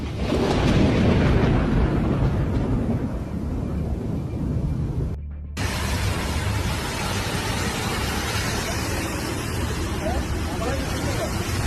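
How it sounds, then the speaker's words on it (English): Thunder from a supercell storm over Kilis and Gaziantep in Turkey rolls as a loud, sustained broadband rumble, broken by a brief gap midway, then resuming with wind-like roar. "Terrifying supercell storm over Kilis and Gaziantep cities in Turkey."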